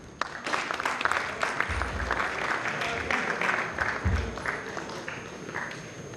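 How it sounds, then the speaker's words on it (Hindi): An audience at a national theatre festival applauds, a broad wash of clapping from a crowd with a few low thumps, moderately distant and sustained. "जोरदार तालियां"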